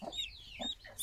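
A mother hen clucks repeatedly in short, agitated bursts, fairly quiet and close, with faint chirps of chicks mixed in.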